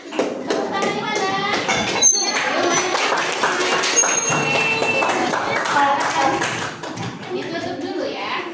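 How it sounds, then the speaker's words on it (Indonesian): A third-grade classroom of children claps together in a dense, continuous patter, mixed with young voices and chatter as the clapping goes on. "Kasih applause ya teman-teman."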